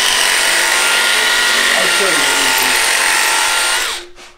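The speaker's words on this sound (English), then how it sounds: "I need to drill this hole now." A power drill whining steadily and loudly for several seconds, its pitch shifting slightly as it bites, then spinning down and stopping abruptly.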